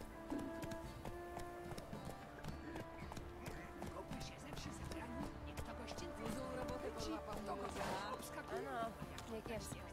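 A horse's hooves clip-clop steadily in The Witcher 3, a quick, even patter of hoofbeats with a faint game soundtrack underneath and someone speaking over it.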